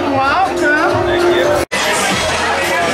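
Patrons chattering inside Oga's Cantina on Batuu, a dense close babble of many voices that cuts out briefly partway before the murmur resumes.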